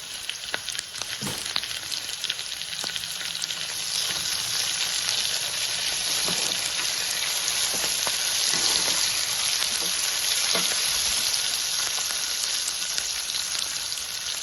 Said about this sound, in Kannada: ಟೊಮೆಟೊ ಹಣ್ಣು ಮತ್ತು ಈರುಳ್ಳಿ ಎಣ್ಣೆಯಲ್ಲೇ ಸ್ವಲ್ಪ ಹೊತ್ತು ಬೇಯಿಸಬೇಕು.